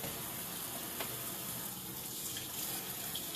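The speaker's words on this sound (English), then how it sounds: "you're just going to fill these with some nice cold water" Cold tap water runs steadily into containers in a kitchen, a continuous bright splashing rush at even level throughout with no speech.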